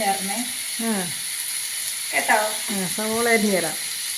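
Food fries in a pan in a home kitchen, giving a continuous sizzling hiss, while voices talk in short bursts over it.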